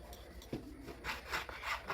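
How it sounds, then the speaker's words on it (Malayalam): A knife saws through a loaf to cut bread slices for bread jamun, giving soft, dry rasping strokes in short repeated bursts, close by and fairly quiet. "നമ്മളിവിടെ നാല് ബ്രെഡ് എടുത്തിട്ടുണ്ട് അപ്പോൾ ഇന്ന് കട്ട് ചെയ്തെടുക്കാം"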